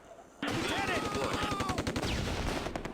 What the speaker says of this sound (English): Grenades and gunfire are exchanged.